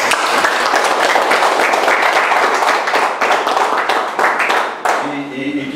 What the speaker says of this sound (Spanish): un fuerte aplauso para los muchachos